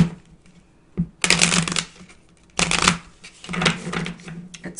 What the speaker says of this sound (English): I'm gonna shuffle and draw another card.